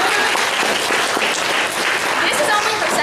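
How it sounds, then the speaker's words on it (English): An audience at an anime convention applauds a young dancer, a dense, steady wash of clapping from many hands that holds evenly loud the whole time. "Give her a clap."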